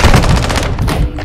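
A loud, close burst of rapid automatic gunfire from the shooter game Warzone, short and dense, thinning briefly toward the end.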